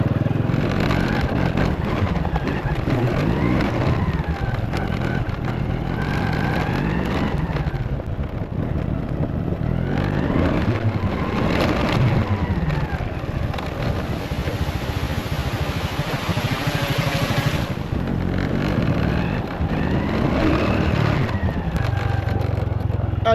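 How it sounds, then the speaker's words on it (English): A motorbike with barely working brakes rides along a rough rural track in Vietnam, its engine a steady, loud, close drone with shifting pitch and rattling bumps throughout. "No brakes on this motorbike."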